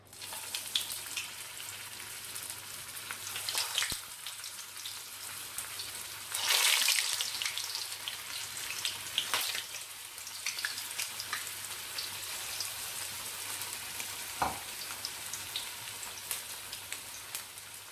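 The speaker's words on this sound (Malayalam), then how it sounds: "നമുക്കിത് ഓരോന്നായിട്ട് എണ്ണയിലേക്ക് ഇട്ട് കൊടുക്കാം." Bread veg Manchurian balls fry in hot oil over a medium flame, a continuous close crackle and patter of bubbling with a few louder pops and bursts along the way.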